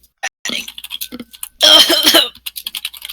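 A person coughs hard once in a harsh burst of about 0.7 seconds, close and loud, set among scattered small clicks and brief noises during a Star Wars roleplay session.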